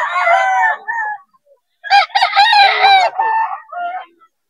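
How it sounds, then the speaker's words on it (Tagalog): Hatch gray gamefowl roosters crow loudly and close, with clucking, in two bursts separated by a short pause. "Hatch gray yung Boss Perry mga idol"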